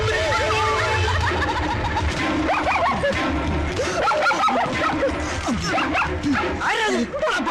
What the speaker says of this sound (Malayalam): പട്ടി